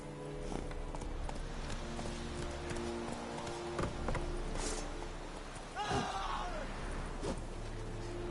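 Horse hooves clip-clopping in The Witcher video game, a steady near rhythm of hoofbeats under ambient game sound with faint creaks, and a brief vocal sound partway through.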